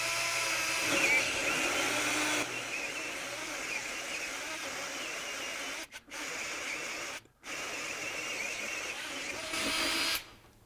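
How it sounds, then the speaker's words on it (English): A Ridgid drill driver fitted with a hole saw bores a 2-inch hole through a 2x4, a loud close whining grind held for several seconds with two short pauses before the cut finishes. "Cutting 2-inch hole saw, a 2-inch hole in 2x4"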